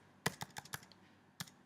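Computer keyboard typing, a short quick burst of five crisp close keystrokes followed by one more after a pause, quiet and without talk.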